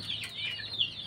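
A Pelung rooster on a chicken farm in Cianjur, West Java, crows in a long, fairly faint, slightly distant call that wavers and bends in pitch over about a second.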